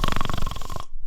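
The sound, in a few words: storyteller imitating snoring bear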